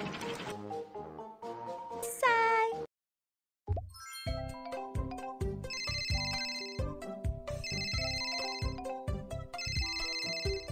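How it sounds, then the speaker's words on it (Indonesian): A cheerful electronic phone ringtone plays a repeating chiming melody, loud and close, after a brief tinkling jingle and a moment of silence. "Telepon berdering."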